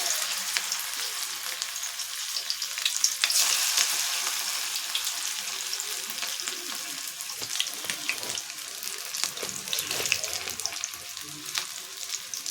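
Sweet corn pakodi batter dropped by hand into hot oil, frying with a steady crackling sizzle and sharp pops and spatters, close and moderately loud, with no talking.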